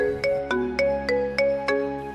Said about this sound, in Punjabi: ਲੈ ਤੇਰੀ ਮਾਂ ਦਾ ਫੋਨ ਆ ਵੀ ਗਿਆ